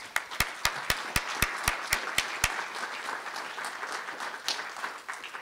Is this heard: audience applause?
yes